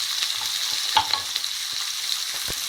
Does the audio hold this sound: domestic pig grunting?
no